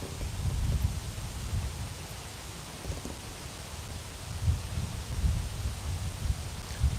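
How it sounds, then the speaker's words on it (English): Wind gusts across open English countryside, rumbling and buffeting close to the microphone with a rustling hiss. It swells and eases over a steady windy bed, with no talking. "Windy day for the end of the stream."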